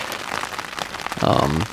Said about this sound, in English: it started to rain. So now we just retreated early to the tent.